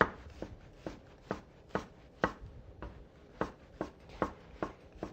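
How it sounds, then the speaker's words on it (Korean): Knife thinly slicing shiitake mushrooms on a cutting board: about a dozen crisp, close cuts in a steady, even rhythm, with no talking. "여기 표고버섯 또 얇게 저며 썰을게요"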